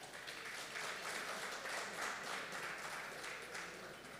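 Audience clapping for a speaker introduced to talk about cooperage and wine barrels, a steady but fairly quiet wash of applause lasting the full stretch without voices.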